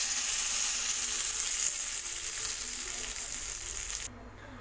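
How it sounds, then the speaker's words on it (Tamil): Hot tempering hisses into brinjal chutney with a loud, steady sizzle that fades toward the end, then gives way to a quieter bubbling hiss. "நம்ம ரெடி பண்ணி வச்சுருக்கிற கத்திரிக்காய் சட்னியில் தாளிப்பு ஆட் பண்ணிடலாம்."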